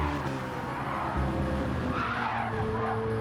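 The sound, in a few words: race car skidding sideways through a corner in a racing video game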